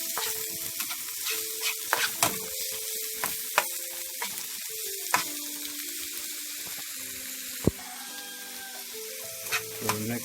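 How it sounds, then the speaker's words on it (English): Breadfruit stir-frying in a pan for a Jamaican breakfast, a steady sizzle and crackle broken by scraping clicks of a utensil stirring, with a sharp knock near the end. "I'm just going to stir fry them with a little bit to start it down for roughly 4 minutes."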